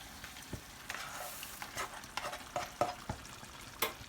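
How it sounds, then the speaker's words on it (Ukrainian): Cabbage and pork ribs sizzle softly in a frying pan while a utensil stirs them, producing scattered scraping clicks over a quiet crackling background. "на плиті у нас все кипить, шкварчить"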